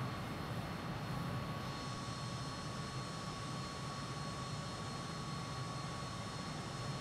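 A MiG-21bis jet in Microsoft Flight Simulator 2020 roars with a steady, loud engine drone and high whine, continuous with no talk.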